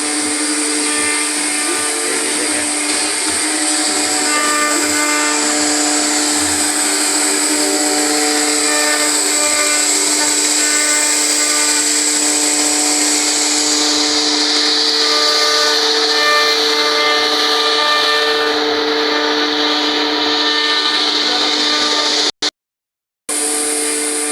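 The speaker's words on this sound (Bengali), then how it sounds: "আমাদের নকশা ডিজাইন করার মেশিন আছে আপনারা দেখতেই পাচ্ছেন নকশা কাটার মেশিন" A furniture carving machine runs in a factory in Thakurgaon, putting out a loud, steady whine with sustained high hiss and tonal hum for over twenty seconds, then it cuts off abruptly near the end.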